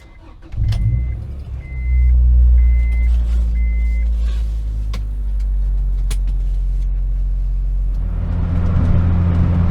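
An Acura Integra GS-R drives along, its engine a steady low drone with road and cabin noise throughout, a few brief beeps early on and a louder rise near the end.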